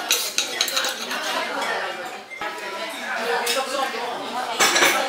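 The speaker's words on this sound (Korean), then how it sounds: "스테이크를 썰어서 줄게요." Cutlery clinks and scrapes against a plate while steak is cut, with busy metallic taps throughout and voices talking over it.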